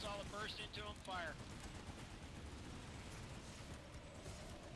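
Burst of automatic gunfire from a video game infantry battle, dense crackling shots sustained and loud throughout, with a voice briefly heard at the start.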